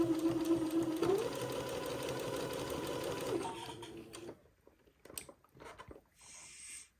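Domestic sewing machine stitching bias tape on a jumpsuit, a close steady whirring hum for about four seconds that stops, followed by quiet handling clicks and fabric rustle.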